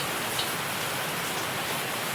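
Steady rain pours down during the monsoon season, a dense, even hiss of drops on surfaces that runs unbroken and fairly loud with no voices.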